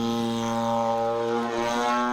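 Aeroworks 50cc Edge 540 RC airplane engine at takeoff, a loud steady buzzing drone with strong harmonic whine, held close and constant without pause.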